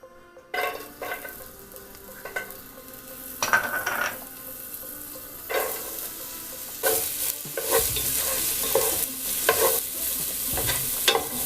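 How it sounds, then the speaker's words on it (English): Onions and garlic sautéing in a little oil in a pot, a steady close sizzle broken by repeated scraping stirs and the clink of a utensil against the pot rim. "We're gonna add a little bit of oil into the pot. Like a teaspoon about. Stir in the onions and the garlic."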